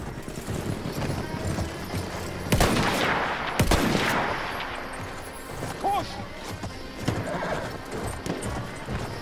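A horse whinnies in the World War I shooter Battlefield 1 amid clattering hooves, scattered gunfire and a crash, with a voice talking over the busy battle noise.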